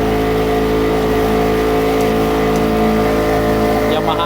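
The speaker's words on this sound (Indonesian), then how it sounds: "Yamaha NMAX tuh mesinnya." A boat powered by a Yamaha NMAX motor engine drones loudly and steadily close by, with people talking over it throughout.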